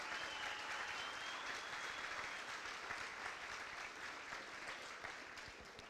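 Guests at a high school football awards banquet give the coaches a steady round of applause, heard from some distance and fairly quiet throughout.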